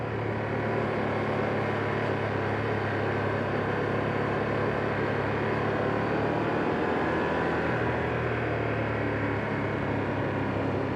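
A 2025 Ducati Streetfighter V2s motorcycle rides through a village, its engine a steady, fairly even drone with wind rush that holds for the whole stretch, no voices heard.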